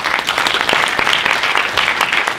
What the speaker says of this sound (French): Adjugé à Madame Marceline Kaosi que nous applaudissons.